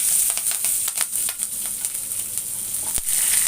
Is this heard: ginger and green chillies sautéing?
yes